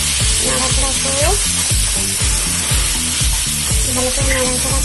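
Cabbage curry in a pan, dusted with garam masala powder, being stirred through a steady hiss of frying, with a rhythmic background of music playing underneath throughout.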